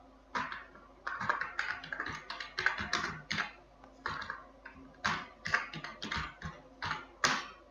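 Someone types steadily on a computer keyboard up close, a quick patter of key clicks in uneven bursts with short gaps between them.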